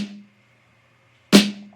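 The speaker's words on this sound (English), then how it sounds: "Literally just that like punch you in the face type of snare" A punchy boom bap snare drum cracks once, loud and upfront, with a bright noisy burst and a ringing tonal body. It rises out of silence after the fading tail of an earlier hit.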